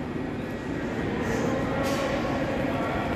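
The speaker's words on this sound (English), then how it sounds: "No, it's the Weemsbay train." A Class 385 Wemyss Bay passenger train at Paisley Gilmour Street station gives a steady, loud rumble and hiss that fills the whole moment without a break, with no clear talk over it.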